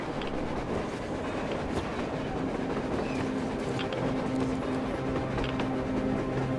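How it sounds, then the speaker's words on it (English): A train in the video game Metro Exodus rumbles past on the surface with a steady, continuous roar and faint clattering of wheels on rails, loud and unbroken, with no voices. "A train! A damn train on the surface!"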